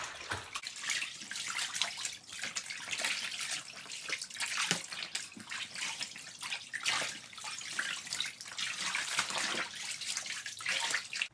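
Laundry sloshes and churns as it is agitated by hand in a tub of water, giving continuous irregular splashing and swishing surges up close, with no voices.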